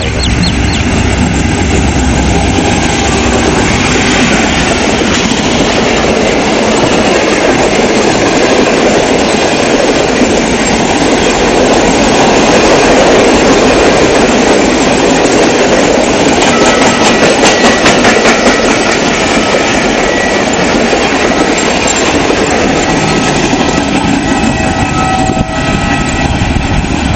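Passenger train with a rake of coaches running on rails. It gives a steady, loud, continuous rumble with faint clickety-clack throughout, with no speech over it.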